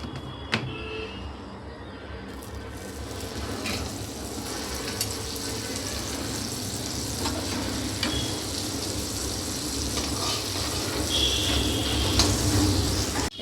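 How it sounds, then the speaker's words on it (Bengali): Butter heats in a wok with a soft, continuous sizzle and crackle, steady and moderately close, without talk. "কড়াই বসিয়ে দিয়েছি, দিয়ে দেবো একটু বাটার।"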